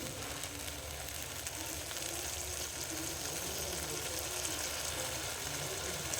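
Spices with turmeric sizzling in a pan for a rui fish curry with kohlrabi and potato, a steady soft frying hiss continuing evenly throughout at low volume with no talk.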